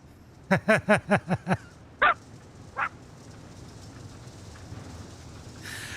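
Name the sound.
person imitating a dog bark in race chat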